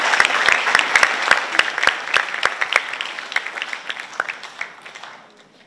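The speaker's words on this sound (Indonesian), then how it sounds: "Tepuk tangan buat adik-adik sekalian." An audience in a youth hall claps for students at a gathering with the Pope, a sustained burst of applause with sharp individual claps that slowly thins and fades toward the end.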